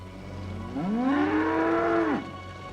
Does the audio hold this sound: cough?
no